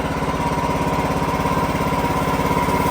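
A sawmill engine runs steadily and loudly while cutting a huge log with a dulling blade, its even rhythmic thrum continuing without a break.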